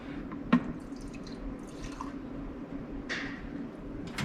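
Gasoline from a Dr. Pepper bottle trickles and drips into a 1967 Ford Fairlane, faint, close liquid splashes and gurgles over a quiet background.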